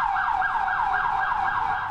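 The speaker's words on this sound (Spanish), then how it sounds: "El sonido de la sirena alerta que existe una emergencia." An emergency siren at a Salvadoran Red Cross event wails in a steady, rapid up-and-down cycle, loud and continuous with no voices.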